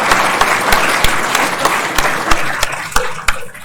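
Audience at a university game design course showcase breaks into steady, loud applause, a dense patter of clapping with a few sharper individual claps that thin out toward the end.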